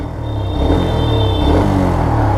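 A Black Panther Rocket motorcycle engine idles after servicing with a close, steady low rumble and a mild swell in revs, loud and continuous with no talking.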